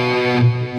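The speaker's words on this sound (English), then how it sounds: "by pulling off on this note, it's a totally different sound than picking it" A single sustained distorted electric guitar note sounded with a pull-off, the pitch dropping as the fretting finger releases, loud and close and ringing on through effects without any voice.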